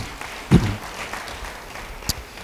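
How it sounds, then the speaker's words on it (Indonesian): A church congregation applauds during a sermon, a steady wash of clapping from many hands with a sharper burst near the start and a brief spike later, heard alone without talk. "Yang percaya beri tepuk tangan bagi dia."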